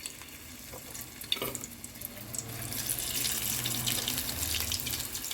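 Cauliflower drops into hot oil for deep frying, giving a soft, steady fizzing sizzle that builds and stays close, with a brief clatter early on and no talk.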